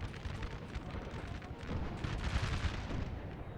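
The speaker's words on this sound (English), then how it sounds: "Man, what's that artillery?" Artillery barrages from Napoleon: Total War in a 4v4 battle, Russian guns among them, form a dense, continuous rumble of overlapping booms and distant blasts that swells louder in the second half.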